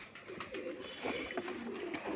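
Pigeons in a rural loft in Alamdanga, Chuadanga, coo softly and steadily, several birds overlapping in a low murmuring chorus close by with no talk over them.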